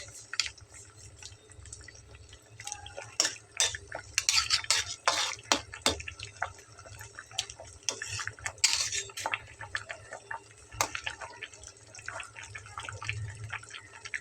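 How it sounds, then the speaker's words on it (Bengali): A spoon stirs a drumstick, potato and eggplant curry with tomato and lentil dumplings in a pan, making a steady run of irregular scrapes, clinks and soft wet sloshes, close but fairly quiet, with no talking. "খুব ভালোভাবে নেড়ে চেড়ে মিলিয়ে দিতে হবে।"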